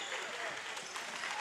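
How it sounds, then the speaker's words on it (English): Team members clap at the end of an 8th grade basketball championship game, a brisk, dense patter of applause sustained throughout, moderately near, with faint voices mixed in. "team members getting up and clapping"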